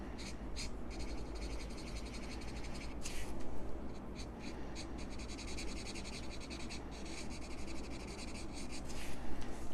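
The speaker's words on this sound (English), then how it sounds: "put it on the paper, and do kind of smooth circles and lines going up" A chisel tip marker drawing smooth circles and lines on paper, a continuous close scratchy rubbing with rhythmic strokes and no talking.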